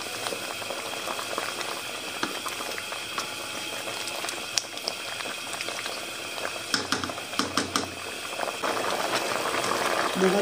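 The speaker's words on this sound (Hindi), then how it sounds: "इसमें बॉयल आना स्टार्ट हो गया।" Water with garam masala spices and sliced ginger boiling in a pot for vegetable pulao, a steady close bubbling and rolling boil that continues throughout with a few sharper pops and splashes toward the end.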